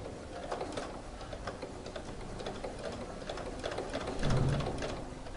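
A sewing machine stitches a facing onto a dress neckline, its rapid mechanical ticking running steadily and close up throughout the clip at moderate volume.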